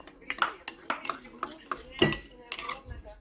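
Metal spoons clink and ping against dishes in a series of light, irregular taps, close by in a quiet room.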